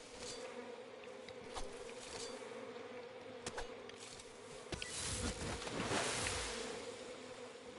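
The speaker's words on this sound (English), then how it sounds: "Otherwise, the bees will sting me like crazy." A swarm of bees from a hornet's nest buzzes steadily in the Metal Gear Solid Delta: Snake Eater video game, swelling louder toward the end with a few sharp game sound hits and no speech.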